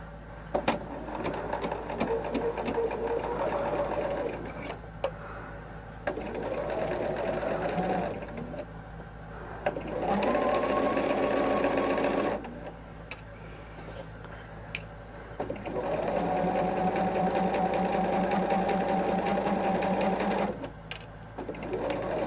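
A sewing machine stitching patchwork fabric in bursts of fast, even whirring, several runs of a few seconds each separated by short pauses with quiet handling, close and clear, no talking.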